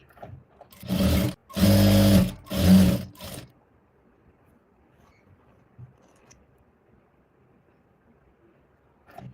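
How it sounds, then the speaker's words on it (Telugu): A sewing machine top-stitching a simple blouse runs in three short loud bursts, then the room goes nearly quiet. "ఈ విధంగా పైన స్టిచ్ అయితే వేసుకోవాలి"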